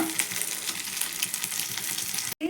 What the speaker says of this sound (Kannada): ಪನ್ನೀರ್ನ ಈ ಥರ ಸ್ವಲ್ಪ ಗೀ ಒಳಗೆ ಫ್ರೈ ಮಾಡ್ಕೊತೀನಿ